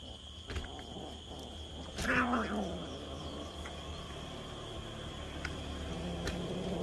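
Hungry, unfed cats outdoors at night give a single clear meow about two seconds in, fairly close, over a steady faint background hum.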